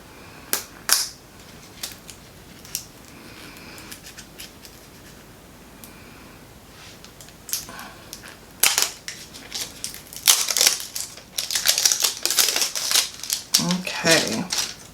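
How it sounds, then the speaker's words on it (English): Plastic wrap being peeled off lip stain packaging, with sharp crinkling and crackling bursts that grow busier and louder toward the end, close to the mic amid a person's talking. "Take the plastic off so y'all can see it better."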